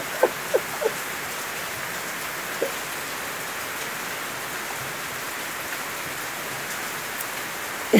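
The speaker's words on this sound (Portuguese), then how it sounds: "Chuvinha grossa para tirar o Romildinho da roça." Heavy rain shower on a rural farm, a steady dense hiss of rainfall on surfaces with a few louder drops, continuous throughout with no voices.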